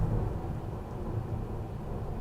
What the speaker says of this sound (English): We're getting thunder outside, so I'm gonna have to try and cut that out in post.